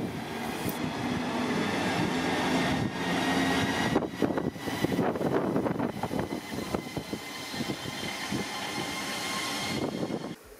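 A DB class 181 electric locomotive pulling a regional train out of the station on departure, a sustained loud rolling rumble and electric whine with rattling wheel and rail clatter building as it moves off.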